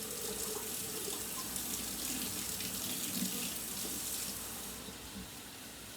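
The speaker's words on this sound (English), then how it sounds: "Gonna put a little bit more water in here." Water runs steadily from a tap into a cooking pot for a dish of home comfort food, a continuous broadband splash at even loudness that eases slightly toward the end, with no voices.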